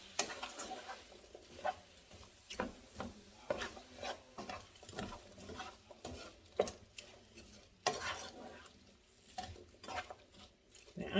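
Diced Granny Smith apples stirred in a pan with pork chops, a soft steady scraping and patter of a spoon through the pieces with a faint sizzle underneath, quiet and close.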